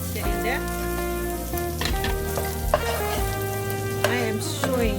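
Garlic and ginger frying in chicken oil for fried rice, a continuous crackling sizzle with occasional sharp spatula scrapes against the pan, heard close, with music playing underneath.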